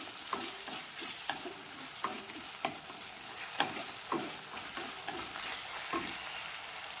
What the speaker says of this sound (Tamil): அதையும் போட்டு நல்லா வதக்குவோம்